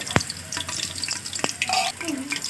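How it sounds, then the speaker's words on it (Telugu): Curry leaves and whole biryani spices spluttering in hot oil, with scattered sharp pops and crackles over a soft sizzle, close and fairly quiet. "చిట్పట్లు అంటుంది చూడండి"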